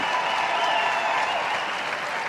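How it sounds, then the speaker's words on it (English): A dog show crowd applauds steadily and loudly for the whole stretch, a dense wash of clapping from a large indoor audience with no voices standing out. "this crowd, it sounds like overtime at the Garden."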